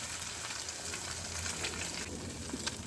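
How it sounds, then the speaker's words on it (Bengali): Raw egg frying in a pan with softened tomato, a steady close sizzle with a few faint scraping stirs and no talking. "কাঁচা ডিমের গন্ধটা যাতে চলে যায় ভাজা ভাজা করে নিতে হবে ডিমটা।"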